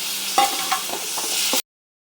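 Onion, tomato and garlic sautéing in a pan for a Tamil New Year lunch, a steady close sizzle with a few soft stirring scrapes before it cuts off abruptly.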